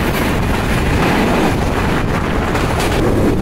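Kapotaksha Express on the Rajshahi–Khulna line rolls along with a loud, unbroken rumble and rattle of carriages close by, no one speaking.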